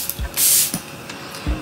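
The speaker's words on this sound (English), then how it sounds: "I'm just lightly gonna spritz my face." Charlotte Tilbury Airbrush Flawless setting spray misted onto a face, heard as one clear hissing spritz with faint clicks of the pump just before and after, close and brief with no talk.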